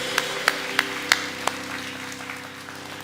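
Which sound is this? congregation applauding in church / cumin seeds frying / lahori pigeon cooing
congregation applauding in church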